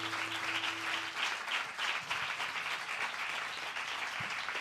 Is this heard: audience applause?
yes